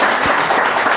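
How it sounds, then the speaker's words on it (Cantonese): Audience applause for Chen Feng at a brand-sharing talk event, a dense, steady wash of clapping filling the whole moment without pause. "我哋俾陳鋒哥哥個掌聲先啊"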